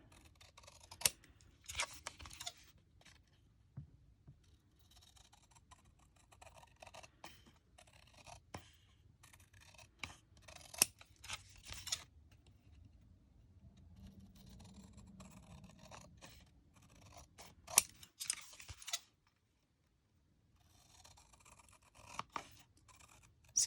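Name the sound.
scissors cutting a card front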